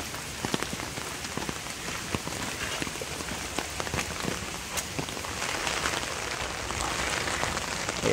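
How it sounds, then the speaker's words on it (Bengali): Steady rain pours down on the hill at Chitrakut, Ghatshila, with scattered drop impacts pattering close by on surfaces throughout, a dense continuous hiss with no voices. "যা বৃষ্টি হচ্ছে"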